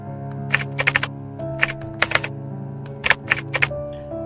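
Keyboard typing in a video game: irregular bursts of sharp clacking keystrokes in quick clusters over a sustained droning musical background, close and clear.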